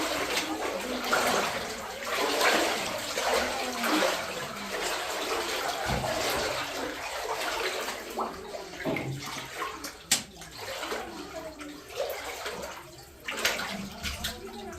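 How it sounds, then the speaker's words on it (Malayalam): Water trickles and splashes inside Muniyara cave at Ilaveezhapoonchira, a continuous close flow with occasional sharper drips and knocks, fairly quiet, with faint voices in the background. "ഇപ്പോൾ വളരെ കുറച്ചളവിലെ വെള്ളം വരുന്നുണ്ട്."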